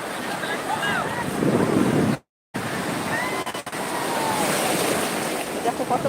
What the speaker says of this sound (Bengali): বড় একটা ঢেউ গেল